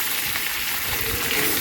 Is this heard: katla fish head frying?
yes